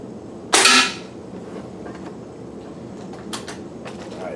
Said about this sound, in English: Shoot another one to confirm it.